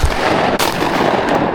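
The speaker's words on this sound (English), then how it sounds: "I think I shot that Drake out there." A shotgun blast during a duck hunt on a frozen river, one loud close report at the start with broadband noise carrying through, plus a second sharp crack just past half a second.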